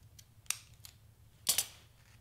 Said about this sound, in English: So I'm gonna trim this, the yellow post-it note.